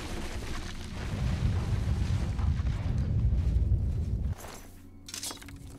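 A deep, heavy rumble like crumbling structures roars for several seconds, then cuts off abruptly, leaving a quieter low hum; a collapse in the video game The Elder Scrolls IV: Oblivion.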